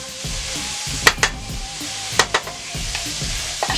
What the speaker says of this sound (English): I'm going to drop them all in this pan and let them cook for a little bit.